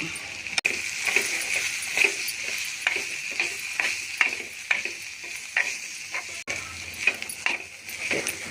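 Small fish frying in a pan with onions, chili powder and salt, a steady sizzle with repeated scraping stirs at a regular rhythm, close up and with no one talking.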